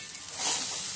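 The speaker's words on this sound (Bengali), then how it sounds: "মশলা দিয়ে হালকা ভেজে নেব" Spices for dahi bhindi (turmeric, ground coriander, ground cumin and garam masala) sizzling gently over low heat in a pan, a soft, steady hiss that swells slightly midway through.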